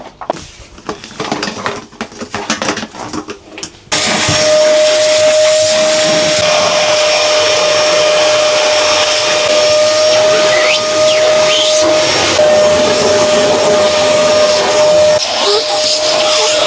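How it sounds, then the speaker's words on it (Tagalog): A vacuum cleaner runs over a house floor in Dubai, starting up after a brief patch of quieter handling noise and then droning loud and steady with a thin, constant whistle for the rest of the time. "So ngayon tapos na tayong mag-vacuum."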